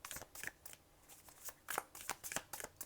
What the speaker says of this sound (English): We're going to draw 2 more cards for you.